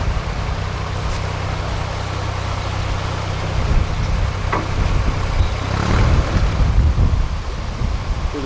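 Wind gusting around a narrowboat as it enters a canal lock, a loud steady roar of wind buffeting the microphone, swelling stronger toward the end.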